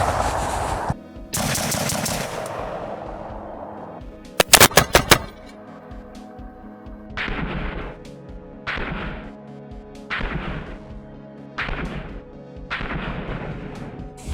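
Rifle fired from a bare muzzle with no flash hider: a rapid burst of sharp, loud shots followed by several single reports spaced roughly a second or two apart, each ringing out with a long echoing decay.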